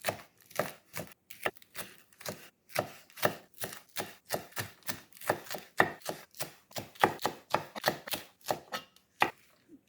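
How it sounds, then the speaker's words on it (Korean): A knife chops kkari peppers on a cutting board in quick, crisp, evenly spaced strokes, close and clear, roughly two or three cuts per second with short pauses. "꼭지를 다 딴 까리고추는 먹기 편한 크기로 잘라주는데요"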